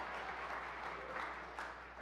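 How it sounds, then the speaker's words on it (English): Audience applause during a governor's State of the State address in Michigan, a steady wash of clapping from a crowd that runs evenly through the moment without any speech over it. "All right, some claps over here."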